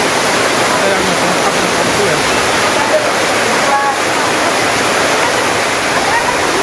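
A rushing river in flood after heavy rain in Buleleng, Bali, strong enough to topple a riverside wall: a loud, continuous, broadband roar of churning water that stays dense and steady throughout.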